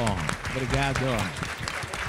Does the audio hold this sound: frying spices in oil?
no